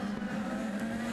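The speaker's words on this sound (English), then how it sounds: "E.J. Viso running in 5th spot there for KB Racing Technology in the number 8 car" An IndyCar race car engine at the 2010 São Paulo 300 street race in Brazil holds a steady, loud drone at high revs, continuous and without talk.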